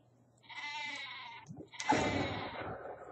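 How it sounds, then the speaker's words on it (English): A cartoonish sheep weapon in the Worms video game bleats twice, a drawn-out wavering bleat followed after a short gap by a louder, harsher one, both close and clear over a faint low hum. "That stupid sheep jumped."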